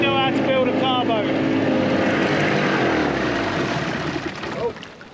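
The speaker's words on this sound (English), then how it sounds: "We know how to build a carboat." A homemade car boat motors along the River Thames with a steady, loud engine drone and water rush, and a voice is heard briefly at the start.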